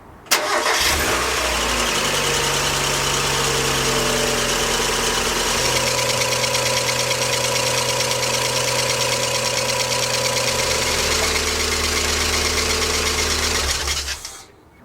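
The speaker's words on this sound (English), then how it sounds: "the belt is not in a good way at all, as I shall now demonstrate when I start up the car" A Mazda MX5 engine with a badly worn auxiliary belt cranks and starts, then runs steadily at idle with a loud, continuous whine and rough knocking hum for about thirteen seconds before cutting off.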